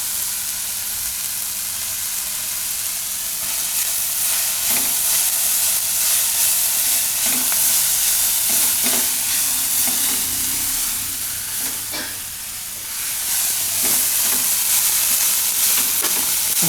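Onion filling for a cheese onion paratha frying in oil in a pan, a loud, steady sizzle running throughout with occasional soft stirring clicks and scrapes.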